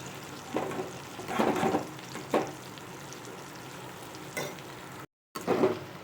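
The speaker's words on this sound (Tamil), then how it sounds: "இதை நல்லா ஒன்றா சேர்த்து கிண்டி விடுவோம் இது வந்து மீடியம் ஃப்ளேம்லேயே வச்சு இதை வந்து நல்லா ஃப்ரை பண்ணணும்" Raw banana frying over medium flame in a pan with tomato, onion and curry leaves, a soft continuous sizzle broken by several scraping stir strokes, close, with a brief gap of silence near the end.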